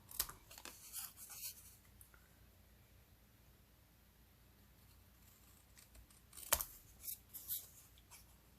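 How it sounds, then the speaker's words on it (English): Scissors snipping the end off paper for a slimline card, several quiet crisp cuts in two small clusters separated by near-silence, close and faint. "So I am just going to snip that end off."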